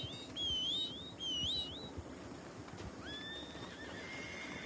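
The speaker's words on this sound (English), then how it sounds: "Now let me call my horse." Two bright rising-falling horse whinnies ring out close in the Red Dead Online western game, followed by a fainter answering neigh over steady ambient outdoor noise.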